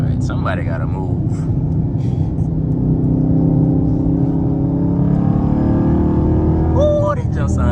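A Dodge Charger R/T with its mid-muffler deleted rumbles loudly and then revs up into a deep, rising exhaust note, while people talk over it.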